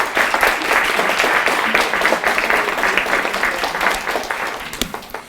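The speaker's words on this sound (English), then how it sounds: "Let's give that group a round of applause." A room full of people claps, the applause strong at first and then thinning out toward the end.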